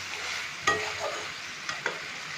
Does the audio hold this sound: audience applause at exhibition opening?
no